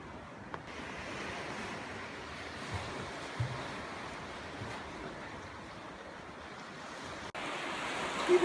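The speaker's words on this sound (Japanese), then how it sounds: "波の音がすごい聞こえますよ" Ocean surf washes steadily against the rocky shore at Mifuga, the Woman's Rock formation on Kume Island, a constant broad roar with light wind buffeting the microphone and no talk.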